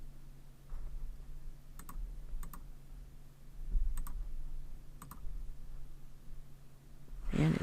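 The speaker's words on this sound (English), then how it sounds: "I'm going to hit my F6 key." Several crisp, evenly spaced key presses on a computer keyboard, nearby and clear above a low steady hum.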